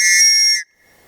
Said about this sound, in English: comes with Tops whistle